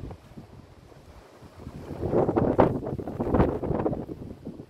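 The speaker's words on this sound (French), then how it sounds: "beaucoup de vent." Strong wind buffets the microphone by the sea in Corsica, a low roaring rumble that swells and gusts louder in the second half, with no voices.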